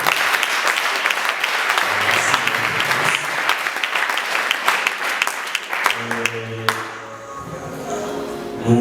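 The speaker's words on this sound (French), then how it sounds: "On fait les saluer avec nos applaudissements" An audience claps loudly and steadily at a school training event, a dense wash of applause that fills the whole stretch, with brief musical tones and some voices mixed in underneath.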